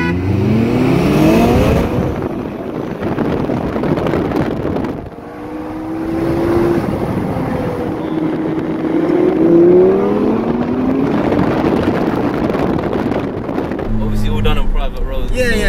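A stage one tuned Audi RS3 accelerating hard, heard from inside the car, engine rising through several gears with loud revving and wind noise, while people talk over it.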